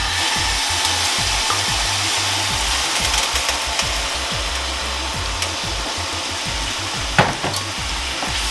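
Beef filling for Jamaican patties sizzles steadily in an oiled pan, a loud, continuous fry with rhythmic stirring scrapes and a sharp clack near the end, no voices.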